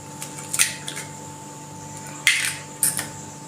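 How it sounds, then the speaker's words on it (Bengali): An egg is beaten with chopped tomato, onion, green chili and coriander leaves in a bowl. A few short, sharp whisking clatters come in separate bursts over a faint steady hum. "ডিমটা ভালো করে ফেটিয়ে নিচ্ছি।"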